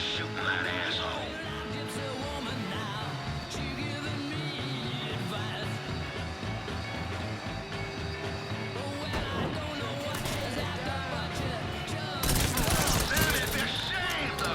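A shootout in Mafia III, with sustained volleys of gunfire crackling over a busy battle mix, a louder burst near the end, and voices talking and yelling through it.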